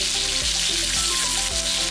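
A loud, steady hiss of fish fillet sizzling on a grill fills the clip, crackling continuously with a faint low hum beneath it.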